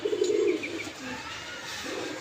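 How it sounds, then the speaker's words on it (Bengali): Pigeons near a house give a soft, low coo at the start, then fall quiet over a steady background hum. "পাখি এসছে আবার ভয় খেয়ে গেল পায়রাগুলো"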